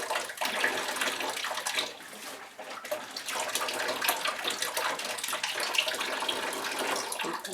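Water gushes steadily from a hose fed by a 12 volt pump, a continuous splashing rush that stays close and fairly loud throughout.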